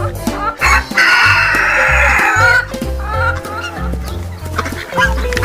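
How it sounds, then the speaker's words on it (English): A rooster lets out a loud, close crow followed by busy clucking and fowl chatter, set against a rhythmic music bed throughout. "Rooster."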